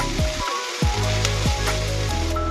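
Chopped onions frying in a pan until golden brown for a coconut prawn dish, a loud, close, steady crackling sizzle with a few stirring scrapes and no voices.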